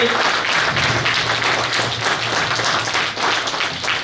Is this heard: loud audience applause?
yes